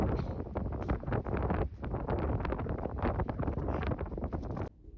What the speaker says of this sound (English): I think we're gonna have to get used to this Colorado springtime wind.